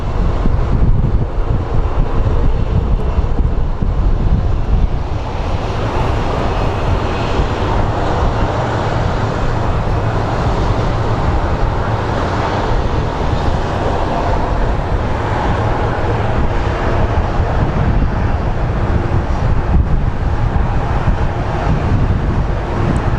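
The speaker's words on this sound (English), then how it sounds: "So wind is gusting at 40 knots here." Loud, continuous roar of strong wind gusting at 40 knots at Phoenix Sky Harbor International Airport, broad rushing noise, swelling slightly in places, no talking.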